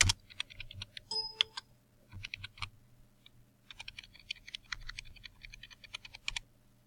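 Quiet computer mouse clicks and key taps with shift held down while drawing a burger graphic, a sparse run of light close clicks with short pauses between.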